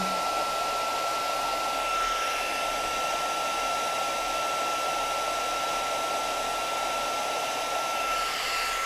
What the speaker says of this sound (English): So let's get our heat gun nice and hot.